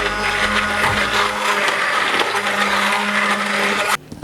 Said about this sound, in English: We're going in with our hand blender.